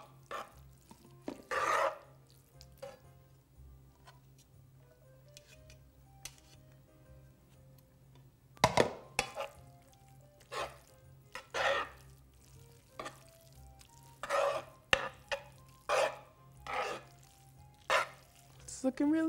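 Pasta being stirred into sauce in a pan, with intermittent scraping and clattering strokes, soft sizzling and a few louder knocks, close and moderate in level between quiet pauses.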